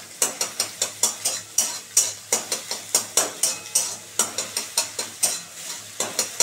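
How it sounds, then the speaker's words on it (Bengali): Egg frying in a pan for chowmein is stirred briskly, giving a regular series of sharp scraping strokes over a soft sizzle, close and clear with no talking. "এই যে একদম ভাজা হয়ে গেল বন্ধুরা ডিমটা,"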